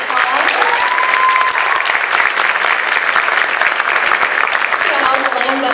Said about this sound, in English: If you'll give her a big round of applause.